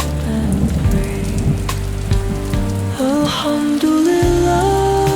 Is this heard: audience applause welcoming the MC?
no